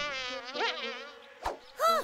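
Buzzing insects being chased, a close, high, wavering whine like a mosquito or fly that rises and falls in pitch, with a brief thud partway through and a louder buzz at the end.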